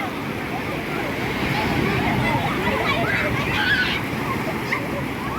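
Rough sea waves surge and slosh onto a beach shore, reaching the feet of someone standing at the water's edge, a continuous loud wash with wind noise while someone talks over it.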